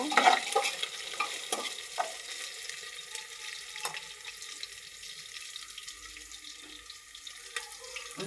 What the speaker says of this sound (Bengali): এখন আমি মাংসগুলো দিয়ে দেবো